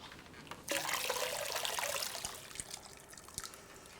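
Water is poured into a pot of lamb stew, a sudden close splashing gush that runs for about a second and a half and then tapers into softer trickles and drips.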